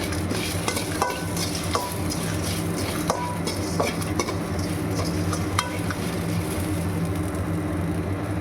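Onions sauté in a pan for a thin mutton curry, giving a continuous close sizzle with a spoon stirring and occasionally scraping the pan, and no voices.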